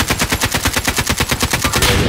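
Rapid automatic gunfire in a video game, a fast even stream of sharp loud shots close up for about two seconds with no talking.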